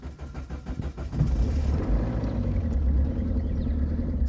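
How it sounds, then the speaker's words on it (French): A Peugeot 207 1.6 HDi diesel engine cranks with a rapid rhythmic starter chatter for about a second, then catches and settles into a steady, loud, low diesel idle, close by. "Il y a encore de la vie dans ce moteur, il a redémarré"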